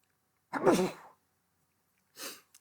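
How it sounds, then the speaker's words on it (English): A single sharp sneeze bursts out, followed after a pause by a brief, softer breathy sound. "I'm gonna sneeze."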